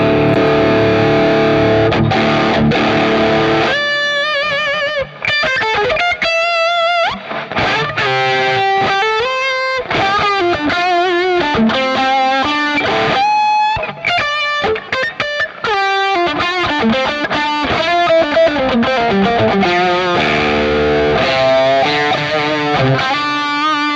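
An electric guitar riffs through a boost pedal with the boost switched off, giving a loud, distorted tone of chugging chords and quick melodic runs, played continuously and alone.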